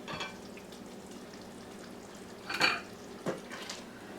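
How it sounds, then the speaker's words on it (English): A utensil stirs pasta goulash in a pot over a faint background hiss, with a couple of brief scraping clinks against the metal late in the moment. "Give her a little stir."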